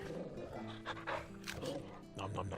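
A dog in the video game Final Fantasy XVI gives soft barks and yips with panting, fairly quiet and mixed with faint voice-like game sounds.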